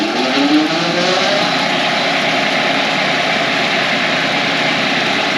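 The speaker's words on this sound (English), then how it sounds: "We're gonna engage the PTO on low RPMs and rev it up" Farm tractor engine revving up with the PTO engaged for mowing, a loud steady mechanical roar with a rising whine in the first second, running alone without talk.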